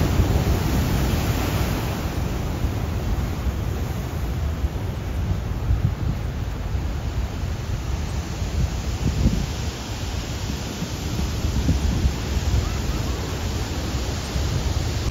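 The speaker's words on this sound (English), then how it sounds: "Checking out the waves." Large ocean waves break at Pacifica pier, a dense, steady roar of surf mixed with wind buffeting the microphone. The sound is loud and unbroken, with no voices.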